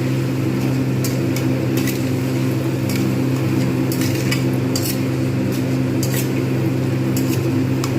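Shoestring potatoes for jhuri alu bhaja fry in an open pan with a steady, even sizzle, broken by occasional light clinks and scrapes, and no one talking.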